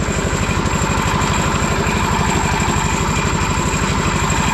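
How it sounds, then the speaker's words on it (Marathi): A diesel water pump motor beside water runs with a loud, steady, rapid thudding throb that holds even from start to finish. "diesel motor पाणीवरती"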